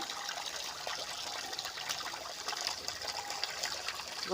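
Fish are washed by hand in water, giving a steady close trickle and splash that runs throughout with no voices.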